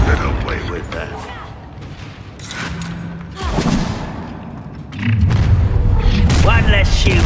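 A Confringo spell explosion goes off in the Hogwarts Legacy video game as a loud boom, followed by further thuds and blasts amid ongoing combat sounds.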